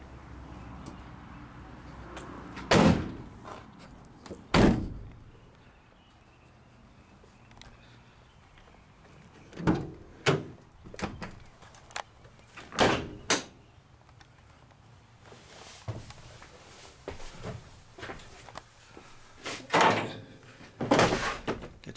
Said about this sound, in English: And those are drawers that comes out.